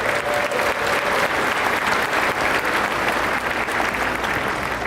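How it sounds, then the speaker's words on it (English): Sustained applause from a large crowd, steady and loud throughout with dense overlapping claps and no pauses. "So can we please give them a round of applause."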